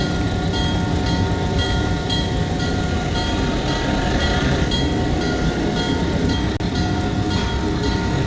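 A switcher locomotive moves railroad cars around a Spokane yard, producing a loud, continuous rolling rumble with rattling and clanking wheels and couplers, close by and without pause.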